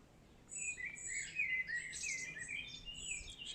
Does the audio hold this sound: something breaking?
no